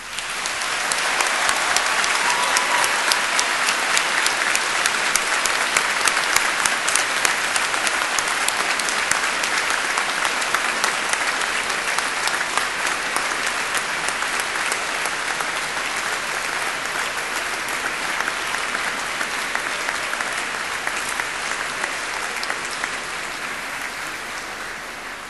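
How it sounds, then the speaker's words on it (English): A hall of university graduates at a Cardiff graduation ceremony gives a long, loud, sustained round of applause for family and friends, a thick wall of clapping that stays even and only eases slightly near the end. "giving them all an enthusiastic round of applause"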